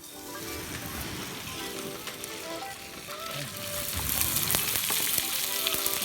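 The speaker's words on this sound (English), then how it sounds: "Blue cod going in." Blue cod frying in a pan on a gas cooker, a loud, dense crackling sizzle that swells stronger toward the end, with faint spattering throughout and no talking.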